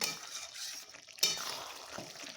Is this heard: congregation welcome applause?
no